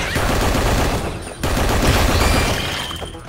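Sustained automatic gunfire from a weapon firing at targets in the Gigantic X action shooter game, loud and dense with a brief break around the midpoint before the rapid fire resumes.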